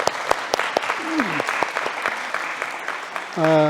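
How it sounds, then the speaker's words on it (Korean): Worshippers at a Sunday service of a Korean mission church in Berlin clap in encouragement, scattered hand claps with brief murmurs and a voice rising at the end. "잘 될 수 있도록 한번 격려의 박수하겠습니다"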